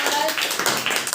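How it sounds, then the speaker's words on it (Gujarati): A first-grade class claps for a classmate in a short burst of quick, uneven hand claps, loud and close, with voices overlapping. "હાલો તાળી પાડી દો ક્રિશ માટે"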